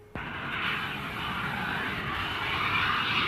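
RAF Phantom jet aircraft at Stanley in the Falklands, its engine roaring steadily after a sudden onset and holding a loud, broad, continuous rumble with no speech.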